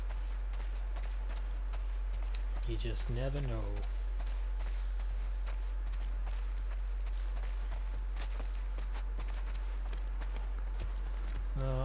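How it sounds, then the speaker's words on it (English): Horse hooves clip-clopping in The Last of Us Part II, a steady rhythmic clatter of hoofbeats throughout under a low hum, with someone talking over it briefly. "Horses are still alive."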